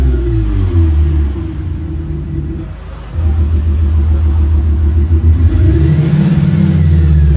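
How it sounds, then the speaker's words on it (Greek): A 2012 Mercedes SLK fitted with a Panthera Leon exhaust system idles with a deep, steady rumble close by, dipping briefly before swelling again into a fuller, louder drone as it revs. "κάθε μέρα το αυτοκίνητο θα κάνει και έναν εντυπωσιακό ήχο"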